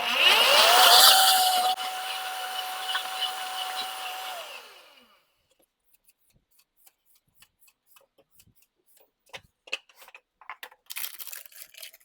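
A blender grinds dried strawberries into powder with a loud steady whir, the motor rising in pitch then holding for several seconds before spinning down, followed by quiet light taps and rattles.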